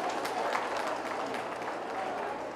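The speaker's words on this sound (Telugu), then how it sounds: "ఒక్కసారి మీరందరూ గట్టిగా చప్పట్లు కొట్టాలండి" An audience claps at a Women's Day celebration held by a business group, a brief, fairly faint burst of steady applause.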